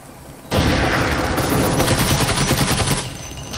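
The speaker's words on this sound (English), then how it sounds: "Grenade!" A grenade blast and heavy automatic gunfire in the Breachers video game, a sudden loud onset followed by sustained, rattling bursts of shots for about two and a half seconds before easing.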